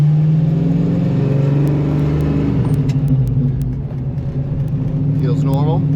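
A 1968 Ford Mustang V8 engine pulls away and revs while driving after ignition work, giving a steady, loud mechanical drone that rises and dips in pitch, with faint clicks over the top.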